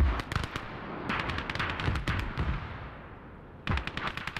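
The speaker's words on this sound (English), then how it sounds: "Would like you guys to get back on that machine gun." Machine gun fire in the WWII strategy game Call to Arms: Gates of Hell, sharp rapid bursts of shots at mid distance, with a pause between volleys and a final burst, no talking.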